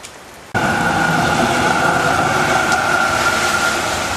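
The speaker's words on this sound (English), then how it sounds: "it's just raining so damn hard" Heavy rain bursts in abruptly after a brief quiet moment, then pours as a loud, steady, dense hiss that fills the rest of the clip without letting up.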